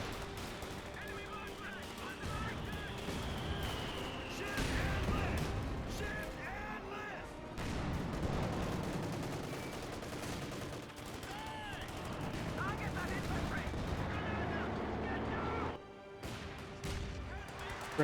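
Battle sounds from Company of Heroes 2: rifle fire, machine gun bursts and grenade explosions crackle in scattered volleys at mid distance, with a voice talking over the action.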